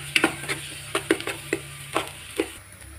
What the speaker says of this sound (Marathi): त्याच्यामध्ये टाकते मी आता अद्रक लसूणचं पेस्ट। त्याला पण 2 मिनिटं मी छान परतून घेते